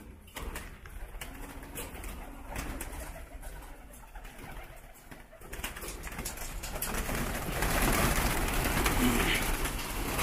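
Pigeons coo repeatedly in a rooftop loft, their soft rhythmic calls close by over a background rustle and hiss that grows louder toward the end, with occasional faint voices nearby.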